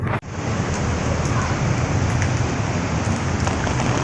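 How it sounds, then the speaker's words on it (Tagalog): Steady rain falls outdoors in Teresa, near a church, as a dense, continuous hiss that stays loud and even throughout, with a brief dip right at the start. "Tignan mo, nagtutuloy-tuloy yung ulan"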